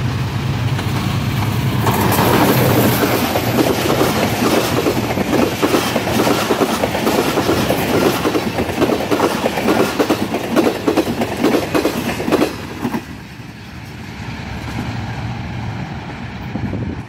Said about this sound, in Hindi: 47 आप रहमान बाबा एक्सप्रेस भी तकरीबन 10 मिनट बाद आ चुकी है